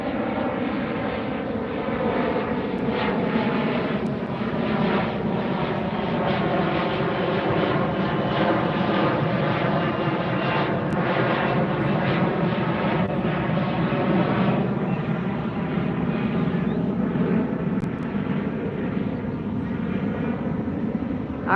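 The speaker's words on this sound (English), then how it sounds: "that last one was United Express 5415 to San Diego and E-Jet SkyWest" A SkyWest Embraer E-Jet airliner passes at LAX with a loud, sustained jet engine roar that stays strong for the whole stretch, heard near and alone.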